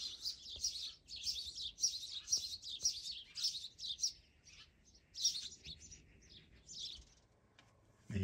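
Sparrows chirp at a wall riddled with small holes where they nest, a busy run of bright, close chirps in quick clusters that thin out toward the end, with no talk.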